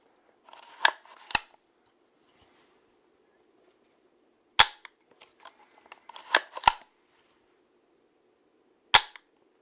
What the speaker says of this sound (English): And it registered me cocking the action as a shot.